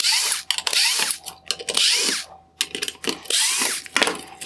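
A power driver backs T20 Torx screws out of a 2019-2021 Infiniti QX50 LED headlight projector, with loud close whirring bursts that rise and stop several times, plus ratcheting clicks between runs.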